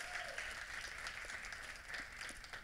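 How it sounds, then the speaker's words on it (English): An audience applauds steadily throughout, a dense wash of many hands clapping at moderate distance, with no talking over it. "So let's give Brittany a round of applause"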